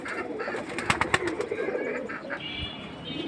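Fancy-breed pigeons at a pigeon sale coo in low, throaty, repeated calls. The cooing is near and moderately loud, with a few sharp clicks or flutters mixed in.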